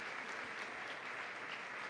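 A congregation at a Catholic priest's talk on freeing children applauds Jesus Christ, giving faint, steady, distant-sounding clapping that holds evenly without pause.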